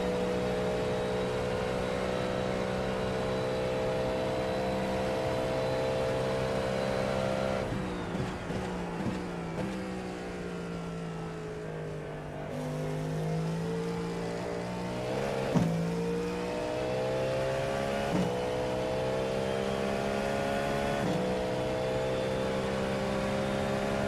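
Race car engine in the iRacing simulator during a 35-minute endurance race with GT3 and LMP2 cars, a steady loud drone with shifting pitch through gear changes and occasional passing cars.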